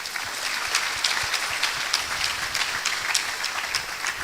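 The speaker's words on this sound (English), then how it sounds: "I would like us to clap for them." An audience at a university alumni conversation event applauds steadily, a dense, even wash of many hands clapping at moderate distance throughout, with no talk over it.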